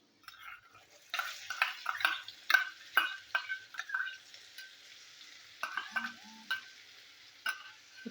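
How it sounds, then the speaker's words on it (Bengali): Chopped onions frying in oil with garlic, a soft sizzle broken by a series of sharp scraping and tapping stirs against the pan, fairly quiet and close. "পেঁয়াজটা আমি ভালো করে ভেজে নেবো।"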